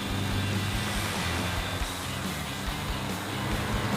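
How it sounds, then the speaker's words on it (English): A winter beater car spins and fries its tires under hard throttle, producing a loud, continuous engine roar with dense broadband tire noise that holds steady and close throughout. "Oh, it's frying the tires, dude."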